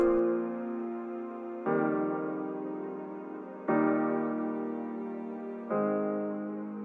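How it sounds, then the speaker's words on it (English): Layered pianos with a wobbly retro coloring blended with sustained choral opera-style synth pads, four long chords changing every two seconds in a slow steady progression, without voices. "Next to that, we have these opera pads. I'm getting these from Omnisphere."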